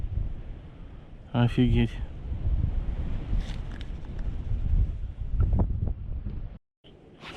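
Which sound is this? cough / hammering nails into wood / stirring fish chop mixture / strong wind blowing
strong wind blowing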